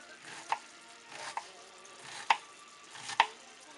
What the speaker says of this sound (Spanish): No tiene que ser tan fina el picado de la cebolla ni tan grande